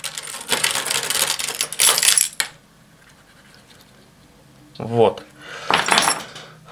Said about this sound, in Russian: И еще повожу ключами.